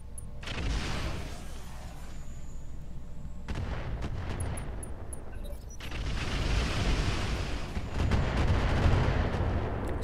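Heavy mech weapons fire in the Roguetech video game, a dense barrage of booming, rumbling blasts in two loud waves with a brief lull between, no talk over it.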